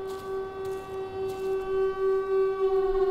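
A steady wailing siren tone in the horror game ROT - Purgatory Hill holds a sustained pitch with harmonics, droning continuously at moderate volume without any talk.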